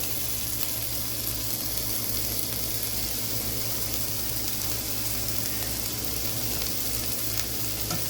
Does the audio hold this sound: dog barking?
no